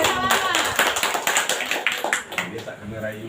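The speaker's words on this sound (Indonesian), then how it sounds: "beri tepuk tangan untuk guru" A room of teachers at an elementary school workshop applauds their colleague, scattered clapping mixed with overlapping voices, moderately close and fading toward the end.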